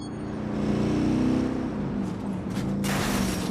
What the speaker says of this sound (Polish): Wow, ale mocny motor.